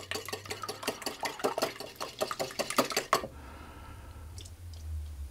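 Egg white with almond extract is beaten in a bowl, giving fast, steady rhythmic tapping up close for about three seconds before it stops and leaves a quiet room tone.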